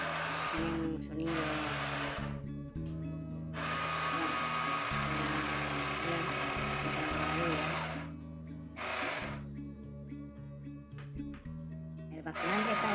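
The small electric motor of a Huina 1582 toy dump truck runs on sand, giving a steady whirring drone that stops and restarts in short bursts, close and moderately loud.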